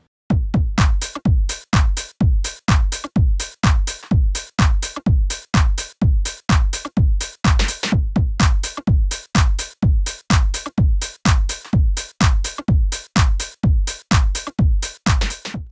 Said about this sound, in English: The clap without processing sounds like this.